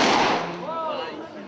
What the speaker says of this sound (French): c'est là que les coups de fusil commencent